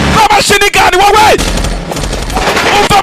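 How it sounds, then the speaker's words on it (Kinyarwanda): Bursts of machine gun fire from a dubbed war film aboard a military boat, loud rapid rattling volleys in quick succession with sharp cracks, a narrator's voice talking over the shooting. "umva amashinigani"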